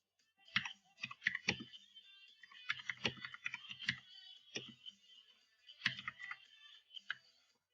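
Bursts of quick keyboard typing, clacky keys in short flurries separated by brief pauses, fairly quiet and close.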